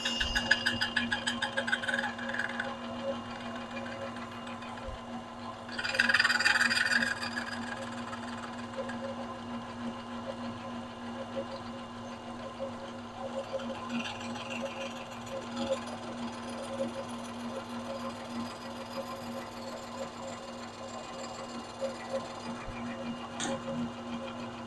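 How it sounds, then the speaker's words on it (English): Lathe or mill taking very light skim cuts around the flange of a model beam engine, a steady low mechanical hum and whine with a louder rough patch near the start, continuing evenly throughout. "Just taking very light skim cuts here, 10th thou at a time, until I get complete cleanup around the entire flange."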